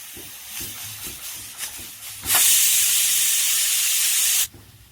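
A pressure cooker whistle bursts out in a loud, steady hiss of escaping steam while cooking bajra kheer, holding for about two seconds before cutting off abruptly, with fainter bubbling sounds around it.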